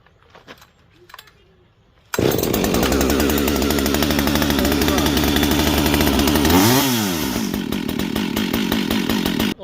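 A new chainsaw started with a pull cord, brake on: a few quiet handling clicks, then the engine catches and runs loud and close with a rough, buzzing idle, a brief rev and dip partway through, and keeps running before cutting off.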